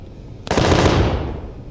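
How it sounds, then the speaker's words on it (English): A cheap autocannon in the Space Engineers video game fires a sudden, loud burst that starts abruptly and decays into a dense, sustained roar with no talking. "Auto cannons are kind of cheap."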